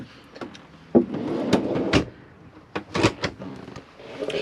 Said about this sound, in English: Always push the catches in to lock the drawers in place.